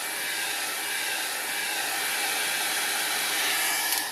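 A hair dryer blows a steady, loud, close rush of air across an alcohol ink painting, holding an even hiss throughout with no voices.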